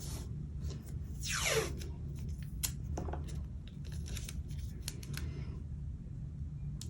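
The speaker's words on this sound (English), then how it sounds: "So I'm going to tape that down." Tape being pulled and applied to hold down a tie-dye layering stencil, with a quick ripping peel followed by soft crinkles, taps and rubbing close by at low volume.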